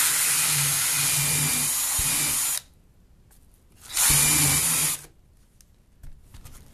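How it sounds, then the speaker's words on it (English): A power drill running in reverse cuts foam clone inserts with a plywood guide, whirring loudly in two bursts of about two and a half and one second with a quiet pause between. "drill, and you want to cut the foam in reverse. You don't want to cut forward."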